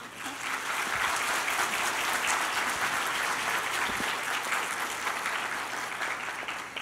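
An audience at a forum session on entrepreneurship and women's leadership gives a round of applause, dense continuous clapping from a sizable crowd, even and sustained for several seconds.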